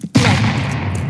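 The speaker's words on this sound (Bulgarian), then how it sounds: "Хвърлям на граната." A grenade detonation in Counter-Strike 2, a single sudden loud blast that fills the moment and rings out briefly afterward.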